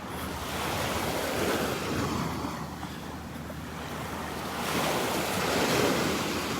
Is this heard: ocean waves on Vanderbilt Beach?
yes